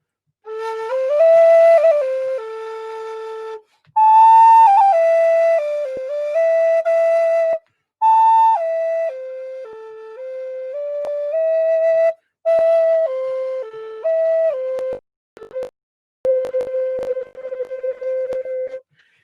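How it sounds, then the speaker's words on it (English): Native American wood flute plays a slow, breathy melody of sustained tones with small pitch steps and brief pauses between phrases, clear and solo. "I play the Native American wood flute"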